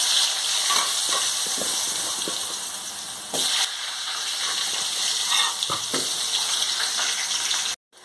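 Potatoes sizzle and fry in a pan for egg biryani, a steady loud hiss close by with faint clinks of stirring, running without talk until it cuts off abruptly near the end.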